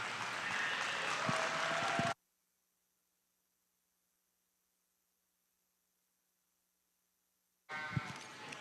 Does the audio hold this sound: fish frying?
no